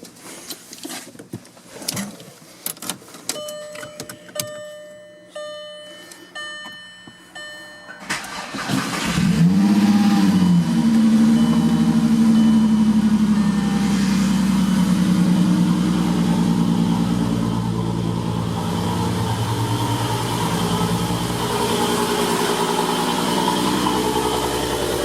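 A Mk4 VW VR6 engine, just after a power steering pump replacement, cranks and catches at close range after some clanking work noises, then settles into a steady, loud idle.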